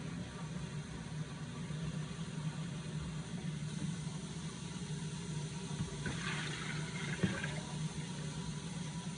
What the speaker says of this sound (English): I'm just trying to get some water to fill up our pot.